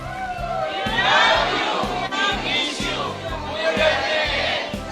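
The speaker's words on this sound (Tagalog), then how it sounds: "Meron pong sigaw ang lokal ng Bangbang" A crowd of voices shouts together in a loud, rhythmic local cheer from Bangbang, rising and falling over a steady background hum.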